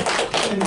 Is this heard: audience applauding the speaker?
yes